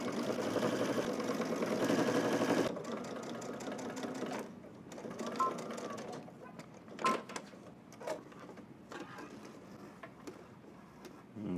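A domestic sewing machine top stitches a second row along twill tape on a Simplicity S3037 garment, a loud steady whirring run for the first few seconds, then quieter, broken stitching bursts with handling clicks and pauses.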